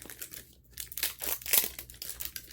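Thin plastic layers are peeled and crinkled off a LOL Surprise ball, giving close, continuous crackling and tearing rustles with a sharper crackle in the middle.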